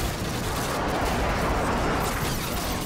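Dense, continuous automatic gunfire in Call of Duty MW2 multiplayer forms a loud, unbroken rattle of shots throughout.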